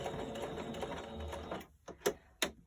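A sewing machine back stitches a fabric pot holder, running in a steady close rattle for about a second and a half before stopping, followed by two short sharp clicks of the machine.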